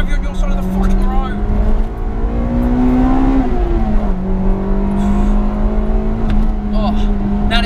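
A Honda Integra DC2 Type R drives along a road, its engine loud and close, pitch climbing and dropping through gear changes with a steady in-cabin drone and someone talking over it.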